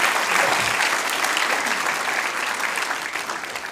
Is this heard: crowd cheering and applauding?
yes